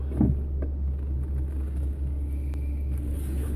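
A Tesla pulls away after charging, giving a steady low rumble of tyres and road with almost no engine tone. A faint bump comes near the start, and the sound stays continuous and moderately close.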